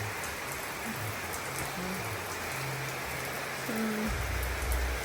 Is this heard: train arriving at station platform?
no